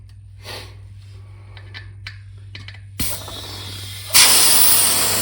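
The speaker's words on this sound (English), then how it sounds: "I'm just gonna air it up" Air hissing into a dirt bike tire being inflated without a valve core: a low hum runs throughout, then a steady hiss starts and swells louder and brighter toward the end, close by.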